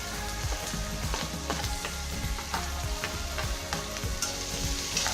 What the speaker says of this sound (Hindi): इसी के साथ में हमने प्याज बारीक कट की थी वो डाल देंगे।